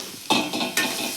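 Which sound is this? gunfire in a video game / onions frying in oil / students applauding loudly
onions frying in oil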